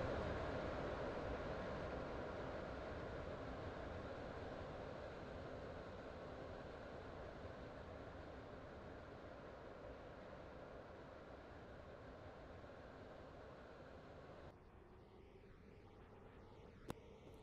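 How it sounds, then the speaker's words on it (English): A non-stopping train rushes through a station platform at Leighton Stepford Road, a steady broad roar of wheels and air that fades slightly over time before dropping away near the end, with no voices. "Train now approaching Platform 2 does not stop here."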